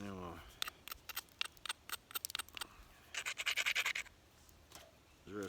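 Sharp, irregular clicks and scraping taps of stone on stone as the edges of a Clovis point are trimmed by hand, including a quick rubbing burst, with a voice briefly at the start and end.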